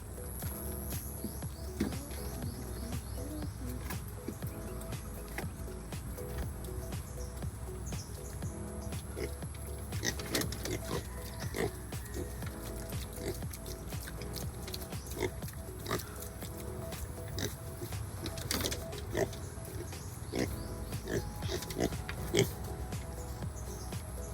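Pigs grunting and oinking on an island village in Surigao del Sur, Mindanao, heard close up as a steady run of snorts and grunts, with scattered bird calls in the background and no talking.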